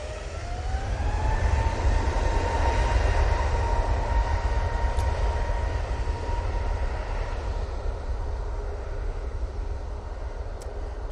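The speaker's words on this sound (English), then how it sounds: "Jet2 A321 Neo now on the roll" A Jet2 Airbus A321neo on its takeoff roll at Manchester Airport, heard as a steady, loud broadband roar with a rising engine whine that levels off, sustained and building slightly before easing over about eleven seconds.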